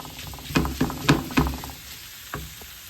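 Minced meat fries in a pan while a utensil breaks it up and stirs it, giving a steady low sizzle with several distinct knocks and scrapes against the pan.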